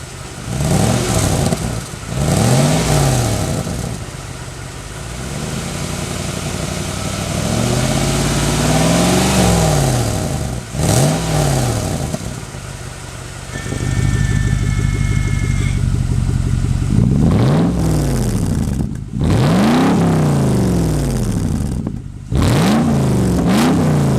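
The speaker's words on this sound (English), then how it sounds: "I gotta go put this camera by the exhaust outlet so you guys can hear this." A Lexus GX470 V8 fitted with SPELAB remote exhaust cutouts revs repeatedly up close by the tailpipe, each rev rising and falling sharply, with burbling idle between blips and crackling backfire pops, loud and alone.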